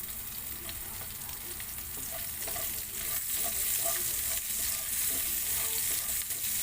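Green chili fries in a pan while fish sisig is being cooked, giving a steady, dense sizzle with faint stirring scrapes throughout.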